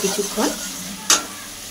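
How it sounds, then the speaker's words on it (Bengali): Bitter gourd, potato and prawns being stir-fried with spices in a pan, a soft sizzle with a few scraping stirs and one sharp clink of the utensil near the end. "এবার মশলার সঙ্গে উচ্ছে আলু ও চিংড়ি মাছটা কষিয়ে নেব"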